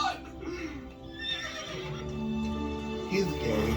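A cartoon horse gives a long, wavering neigh with a clip-clop of hooves from She-Ra and the Princesses of Power, mixed under the show's soundtrack and voices.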